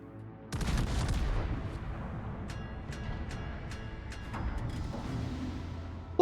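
Warship main guns firing high-explosive shells in World of Warships, a loud booming salvo followed by rumbling battle noise and scattered sharp cracks, with a second swell of rumble later, no voices.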